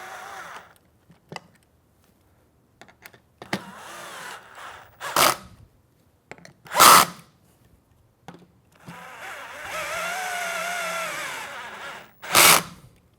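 A power drill tightens a bolt on a Contrology Reformer carriage in a garage, with several short whirring bursts and a longer run in between, close and fairly loud, with handling noises between them.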